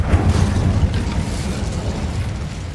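Incendio fire spell cast in Hogwarts Legacy, a deep rumbling whoosh of flame that bursts loudly at the start and then rolls on as a steady, slowly fading roar with no talking.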